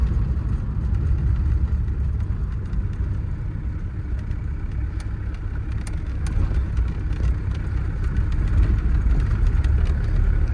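A Tofaş car fitted with an Audi diesel engine turning onto a dirt road, heard from inside as a steady low engine drone with road rumble, continuous and fairly loud, with no talk.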